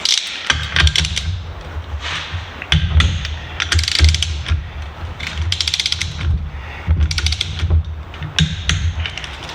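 A torque wrench ratchets on crank bolts during a Polaris XCR 600 SP triple snowmobile crank install, producing repeated close, clicking pawl bursts in an irregular rhythm over low mechanical rumble.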